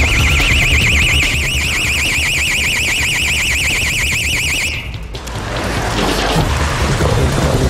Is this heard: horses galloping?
no